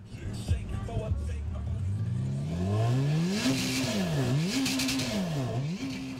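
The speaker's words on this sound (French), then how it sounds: "Sur la plage, les jet skis sont presque prêts. Les moteurs vrombissent, le départ est imminent." Jet ski engines rev on a beach just before a race start, rising and falling in repeated loud swells of revving.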